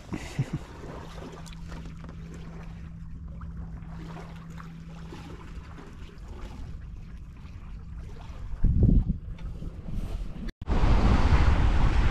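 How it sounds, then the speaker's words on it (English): Steady wind gusting over a sailboat on Lake Michigan during a singlehanded sail from Muskegon to Holland, Michigan, with water wash and a low hum, building into a loud roaring blast of wind noise near the end. "Got some wind back."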